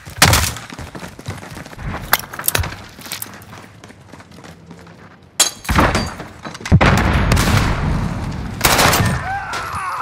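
Call of Duty Modern Warfare firefight: sharp close gunshots in quick bursts, a few isolated shots early, then a heavier sustained volley near the end, loud and punchy.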